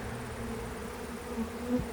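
Honey bees buzz at a hive on a honey farm, a steady, close, unbroken drone with no voices over it.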